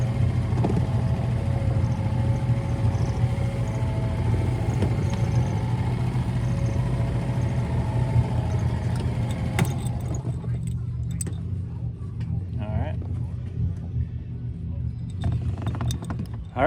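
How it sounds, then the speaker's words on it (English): An outboard motor on a Newport Seascape 9-foot dinghy runs with a steady low drone for about ten seconds, then cuts to quieter water and wind noise with scattered knocks. "motor ran great"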